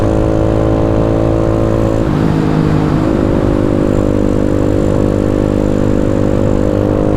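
A Honda Scoopy scooter rides downhill on a mountain road with a loud, steady engine drone close up, its pitch briefly dropping and wavering before holding level again.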